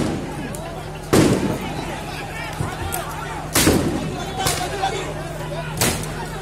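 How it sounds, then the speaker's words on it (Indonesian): Several loud blasts from bombs thrown during riots in Manokwari, West Papua, spaced a couple of seconds apart against a restless outdoor background, with someone speaking between the explosions. "sampai saat ini masih tetap melakukan pelemparan bom."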